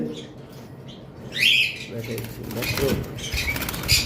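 A pair of lime Fischer's lovebirds in a cage gives bright chirps and flutters its wings. The chirps come in short bursts close by, and someone talks over the sound.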